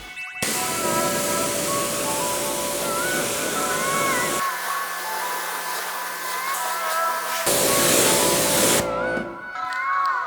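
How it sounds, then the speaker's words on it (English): Water spray rinsing a dirty, brake-dust-covered wheel on a 2012 Mercedes S550 W221, a loud continuous hissing rush that softens briefly midway, then surges again before cutting off near the end. "then you just want to rinse it off with some water."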